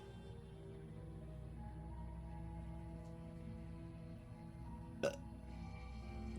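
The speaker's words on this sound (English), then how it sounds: "I have the burps." A single short burp rises out of a steady low background hum about two thirds of the way through, with no talking around it.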